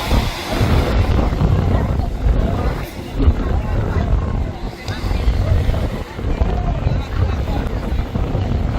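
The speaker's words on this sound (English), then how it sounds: "It looks like a big jet." A large jet airliner approaches to land over Maho Beach on St Martin, a loud, steady low roar with wind buffeting the microphone and crowd babble around it.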